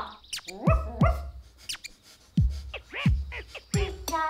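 A small dog barks repeatedly up close in a children's puppet film, a quick series of loud, bright yips and barks with short pauses between bursts.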